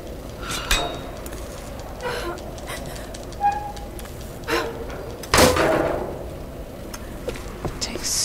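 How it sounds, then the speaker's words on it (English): A heavy door in the video game Tomb Raider grinds and thuds open in ancient ruins, with scattered clanks, knocks and one loud slam standing out over a quiet ambient bed. "It takes so much effort to open a fucking door around here."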